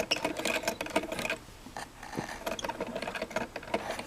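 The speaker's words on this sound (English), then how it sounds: "I have to come fairly far in, about a ½ inch, in order to just stitch this." A sewing machine stitches a backstrap-woven pull-over vest, giving a close, steady mechanical chatter of rapid needle strokes with a short slowdown midway before running on.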